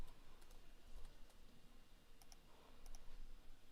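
Sparse, faint keystrokes on a computer keyboard, a few light clicks scattered over a quiet room hum with short pauses between them, no talking.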